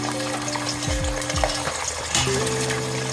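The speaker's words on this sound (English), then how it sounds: "Frying the chicken feet time." Chicken feet for Indonesian ceker ayam frying in hot oil, a loud continuous sizzle and crackle with a steady hum underneath and a few brief pitch sweeps partway through.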